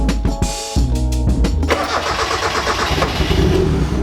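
A Mazda Miata engine cranks for about a second and a half, then catches and settles into a steady, loud, close idle.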